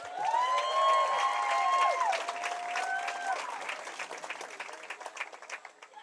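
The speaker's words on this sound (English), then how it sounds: "Let's give a round of applause for all of our senior football players." A high school senior night crowd at a St. Joseph Eagles football game claps and cheers for senior football players, loud at first and then thinning into scattered claps, with a sustained tonal sound over the start.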